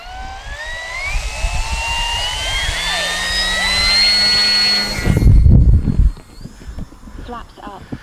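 The electric motor and propeller of an FMS 2300mm Fox V2 RC glider whine steadily and climb in pitch as the plane flies off. A burst of wind buffeting follows, then the sound drops away.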